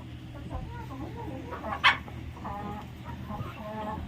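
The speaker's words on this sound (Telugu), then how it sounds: "ఇగో ఇదే పెట్ట గుడ్లు పెట్టింది." A native village hen that has just laid eggs clucks softly in short bursts, with one sharper, louder cluck partway through and other fowl murmuring nearby.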